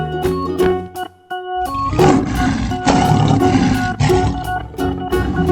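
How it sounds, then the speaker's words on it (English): Lion roaring in an escape room challenge game, a loud rumbling roar that swells and holds over rhythmic background music. "Lion."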